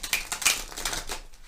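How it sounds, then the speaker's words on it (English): Quick papery riffling of tarot cards being shuffled, a few rapid bursts of flicks close by, with no voices. "we're going to do one more shuffle and then we'll spread"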